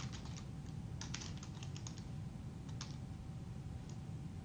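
Faint typing on a computer keyboard, a few quick clusters of key clicks over a steady background hiss, with a single key press near the end.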